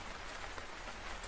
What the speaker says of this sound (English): The rain sounds are still pattering, gentle and calm.